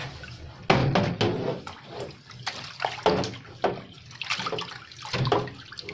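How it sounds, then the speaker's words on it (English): Water splashes and sloshes as an Amiga 2000 computer case is rinsed off with a rag, in a run of irregular close splashes and drips with brief pauses between them and no talking. "rinse this off with the rag"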